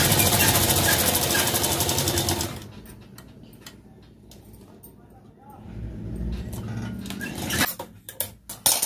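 A sewing machine stitching a blouse margin runs in a loud, rapid, rattling burst, falls quiet, then whirs through a second shorter run before a few sharp clicks and knocks.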